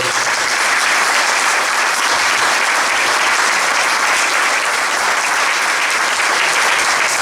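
A live audience applauds during a Portuguese live show with Serafim and Brasa Doirada: dense, continuous clapping from a large crowd, loud and even for several seconds with no voices over it.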